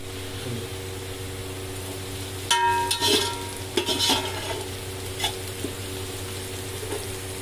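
Onions sizzle steadily in a pan for chicken egg biryani, with a few scraping, clattering stirs of a spoon breaking through the frying hiss in the middle of the clip.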